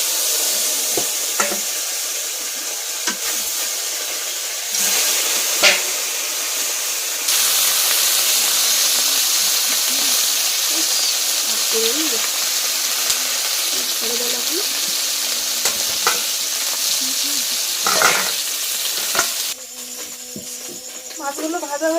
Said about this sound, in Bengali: মাছগুলো ভাজা হয়ে গিয়েছে, এবার কিন্তু তুলে নিচ্ছি।